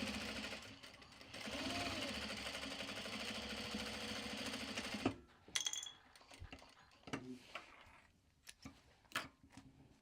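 A sewing machine stitches Japanese fabric in one steady, moderately close whirring run for about five seconds, followed by scattered clicks and handling noises.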